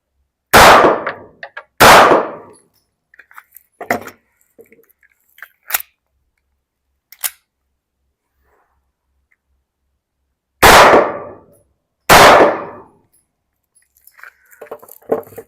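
A Glock pistol fired at a shooting range, four loud sharp reports in two closely spaced pairs, with smaller clanks and handling clicks between them.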